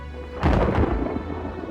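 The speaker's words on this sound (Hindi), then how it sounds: "बाहर बारिश और बादल गरजने की आवाज आ रही थी।" A loud crack of thunder bursts in suddenly, then rolls and rumbles on, with rain hissing steadily underneath.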